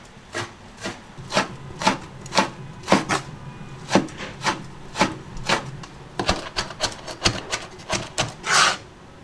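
A knife chops zhe'ergen, fish mint root, finely on a wooden board, sharp close strikes in uneven bursts of single and rapid quick cuts, with no talk.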